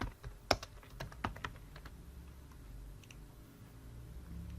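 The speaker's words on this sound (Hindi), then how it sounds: "यहाँ पे गूगल में और यहाँ पे मैं उर्दू टेक्स्ट लिखता हूँ" Urdu text is typed on a computer keyboard in a quiet room, a handful of irregular, fairly soft key clicks clustered early, then trailing off into faint background hiss.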